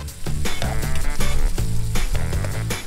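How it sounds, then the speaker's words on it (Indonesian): Chopped sea cucumber sizzles loudly as it is stir-fried in a pan, a steady close crackle with rhythmic bursts from stirring and no talk. "Terus ditumis sampai harum ya."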